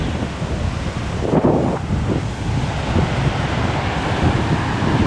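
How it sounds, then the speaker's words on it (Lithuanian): Strong wind gusting along the sea shore at Denmark's northernmost point, a steady loud roar of buffeting noise with surf mixed in and a brief stronger gust early on, no voices. "Bet vėjas labai didelis, tai jutiminė daug mažesnė."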